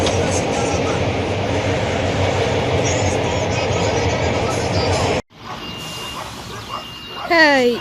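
A passenger train ride in Poland, with a loud steady rumble of the carriage in motion that drops out briefly, then a quieter interior hum with faint tones and a short rising sound near the end.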